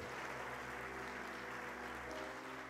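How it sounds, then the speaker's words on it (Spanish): A church congregation claps together in a steady, dense wash of applause at a Monday worship service, continuous and even throughout. "Dale un fuerte aplauso al Señor si lo crees."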